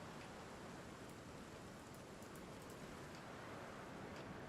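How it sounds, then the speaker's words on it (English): Steady rain in Jurassic World Evolution 2, a continuous dense hiss with occasional faint drop ticks, unbroken throughout and without voices. "It would be wonderful if that rain stopped"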